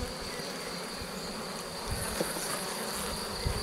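Honeybees buzz in an opened hive with cracked cells, a steady, dense drone close by with a few faint knocks underneath.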